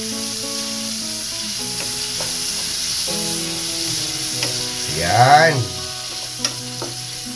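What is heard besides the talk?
garlic sautéing in a pan for pakbet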